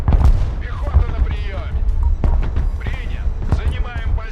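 Heavy artillery fire in the military strategy game Broken Arrow: repeated sharp booming impacts over a constant deep rumble, several distinct blasts across a few seconds, with faint voices or chatter mixed underneath.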